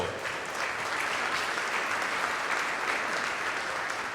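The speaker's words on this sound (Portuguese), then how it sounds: "Uma salva de palmas" Audience applause at a dinner debate event, a dense steady patter of many hands clapping at once, moderately loud and unbroken throughout with no talk over it.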